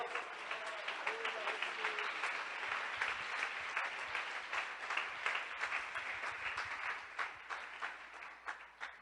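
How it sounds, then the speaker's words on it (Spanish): A church congregation applauds during a sermon, with steady, dense clapping that stays fairly even and close throughout, thinning slightly and turning more scattered toward the end. "Yo creo que hay un aplauso para el Rey de Gloria."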